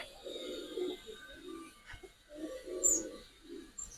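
Pigeons at a Bangladeshi pigeon market stall, giribaz and coloured fancy breeds, give repeated low cooing phrases in two clear bursts, moderately near, with faint background noise and no clear talk over them.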